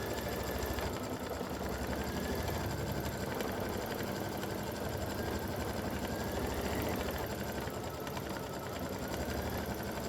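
A quilting machine stitches an edge-to-edge autumn leaves design, a steady low mechanical hum and whir that runs continuously, faint and unbroken throughout.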